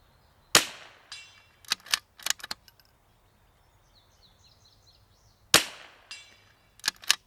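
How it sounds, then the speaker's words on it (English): A precision rifle on an L3I Hyve chassis fires at a target outdoors, two loud sharp cracks about five seconds apart, each followed by smaller clinks and knocks of handling, with faint birdsong in the quiet between. "I'm going to try and shoot a group"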